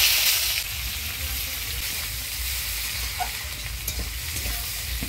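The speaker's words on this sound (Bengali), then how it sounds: "এবার দিয়ে দিব পেঁয়াজ কুচি।" Chopped onion frying in oil over a tempering of dried red chilli, whole cumin and bay leaf for an egg curry, a continuous hissing sizzle with a few faint stirring scrapes.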